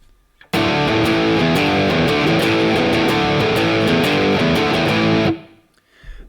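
An electric guitar plays through the Brit 800 amp model on a Sonicake Ampcube practice amp, giving loud, dense, distorted chords that ring steadily for about five seconds and then stop abruptly.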